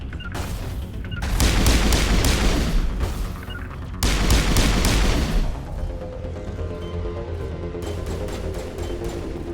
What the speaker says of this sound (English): Guns, bullets flying everywhere, help!